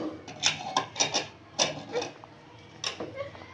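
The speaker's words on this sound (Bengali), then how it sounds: "এখন হচ্ছে প্রেশার কুকারে মুখ আটকে দাও।" A pressure cooker lid is closed and locked in a home kitchen after eggs are added: a close run of sharp metallic clicks and clinks in uneven rhythm, with no talking.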